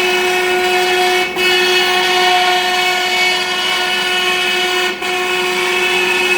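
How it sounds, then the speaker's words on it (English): A CNC router cuts a long dado across a cabinet panel, a loud, steady whining drone with a strong pitched hum that holds evenly, dipping briefly twice as the cut moves along. "It's going to make a long dado right across right now."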